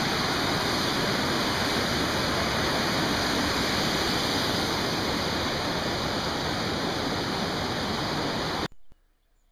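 Water of the Mar river rushing beneath a bridge on a hike, a dense, loud, continuous roar filling the whole span before cutting off sharply near the end.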